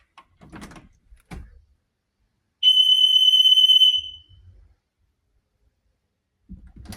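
An ADT Impassa alarm system responds to a door being opened during a walk test: door clunks and rattles come first, then a loud, steady high electronic tone lasts just over a second, followed by a few quiet thuds.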